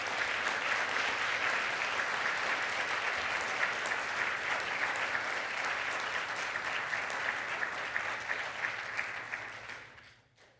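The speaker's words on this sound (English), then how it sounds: "let's give them a round of applause" Sustained applause from the audience at an academic conference opening session honoring panelists, steady and full for about ten seconds before fading out quickly at the end.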